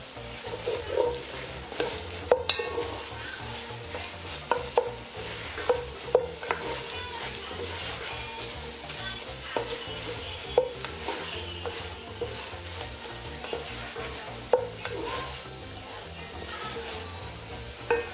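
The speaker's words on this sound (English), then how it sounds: "Pimento peppers give corn soup a great flavor, so that goes in, as well as some green seasoning, of course." Pimento peppers and green seasoning get stirred into a sizzling pot for Trinidadian corn soup, with a steady fry under repeated spoon scrapes and clinks against the pot, and no voices.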